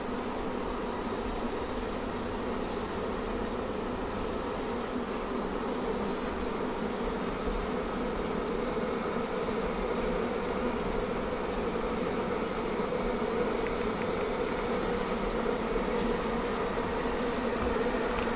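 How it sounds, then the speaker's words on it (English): Honey bees inside an observation hive hum in a dense, continuous buzz as the colony grows agitated just before swarming. The drone stays steady and fairly loud throughout, with no voices. "how excited and animated every single worker bee inside the hive becomes just before the departure of the existing queen"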